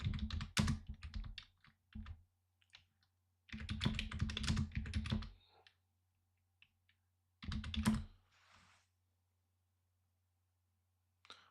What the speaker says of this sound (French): je vais écrire Nickel Alexander parce que ça me casse la tête